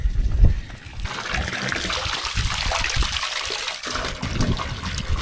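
Cows drinking water in a barn on a hot day, a steady trickling, splashing slurp of water running under low rumbling handling noise, continuous and fairly close, with no voices.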